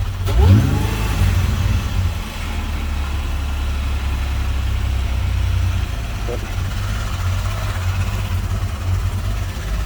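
A VG L67 drift car's engine, just fitted with an aftermarket fuel pump, rises in a quick rev near the start, then settles into a steady, loud rumbling idle that continues throughout.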